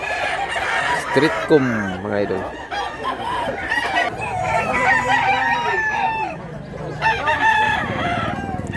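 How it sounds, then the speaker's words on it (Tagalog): Chickens and roosters at a busy cheap-chicken market in Mantalungon, Cebu, cluck and crow close by, with several overlapping calls under and between someone talking. "Wapo manok."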